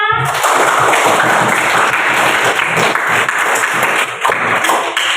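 Loud, dense applause from a group of schoolchildren in a classroom, steady clapping that fills the whole stretch without a break.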